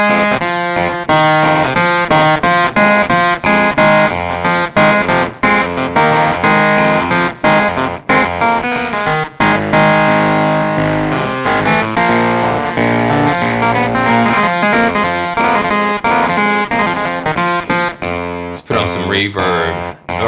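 A keyboard plays continuous chords and notes through heavy distortion with a trailing delay, loud and dense throughout, ending in a brief burst of noise.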